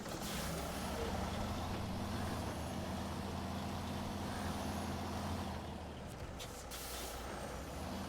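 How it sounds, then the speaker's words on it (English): Heavy truck fitted with a crane in a winter farming simulator, its engine droning steadily with broadband air-brake hiss throughout, loud and close, with no talking. "Need a crane, so we'll bring a truck with a crane."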